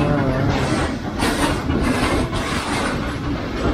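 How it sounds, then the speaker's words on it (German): Loud, steady rumble of a train rolling past a station platform, with broadband rushing noise and periodic clattering surges throughout. "Ah, diese Züge, die belästigen."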